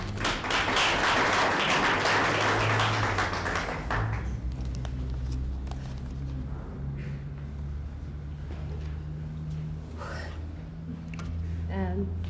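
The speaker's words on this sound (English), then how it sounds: "I think we need to give her a round of applause" Applause from a crowd at a university event in Kenya, loud at first, then fading to scattered clapping and murmuring over a steady low hum.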